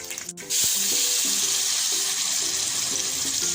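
Garlic sizzles in a hot pan for pizza sauce, a steady close hiss with faint clinks and scraping knocks over the frying.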